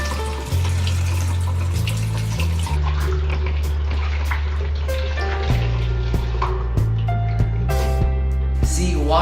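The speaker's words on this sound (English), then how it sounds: "First step, find the bananas and wash them." Bananas washed under running tap water, a steady splashing flow lasting throughout, with low pitched shifting tones from the water in the sink.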